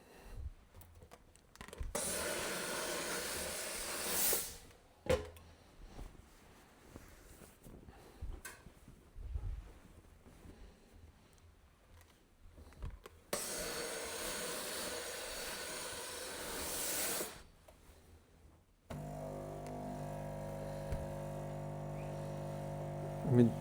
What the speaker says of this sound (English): So much easier with a steam iron